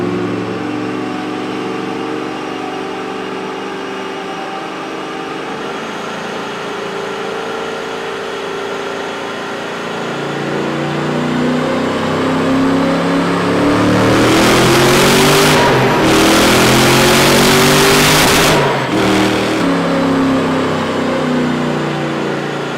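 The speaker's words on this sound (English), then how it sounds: "some dyno pulls on one of their Super Snake cars" A Shelby Super Snake car runs on a dyno, its engine idling low before climbing into loud, sustained revving pulls with rising pitch, cutting back briefly between runs.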